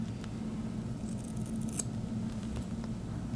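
Freshly sharpened shears snip in a quiet indoor room, a few light, crisp cuts spread over a steady low hum, close but soft, with no voices.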